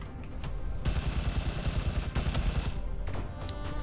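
Rapid automatic weapon fire in the video game Sublevel Zero, a loud continuous burst of fast shots lasting a couple of seconds, framed by a few single shots before and after, with no speech.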